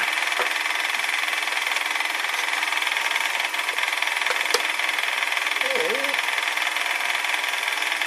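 A wood lathe turning acrylic runs with a steady, loud mechanical whine and hum throughout, a brief tick partway through and a short faint tonal squeak near the end.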